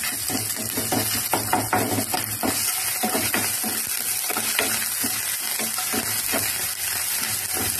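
Ginger garlic paste fries in a hot pan with a dense, steady sizzle and crackle, stirred in quick scraping strokes throughout, close and fairly loud with no voices.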